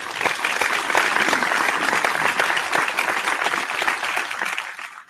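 Applause from a crowd in another room of a house swells into a dense, steady clatter of many clapping hands, fairly loud and unbroken for several seconds before tapering off at the end.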